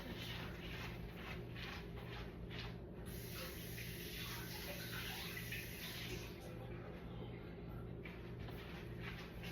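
Vegetables rinsed under a running tap, a faint, continuous splashing gush of water with a low steady hum beneath and shifting spray as the stream strikes the produce.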